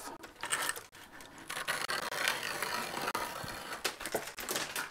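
A steel caliper point scribes a line across a panel for a WS2812 LED display, giving a steady close scratching rasp with short pauses and bursts of rubbing over about five seconds.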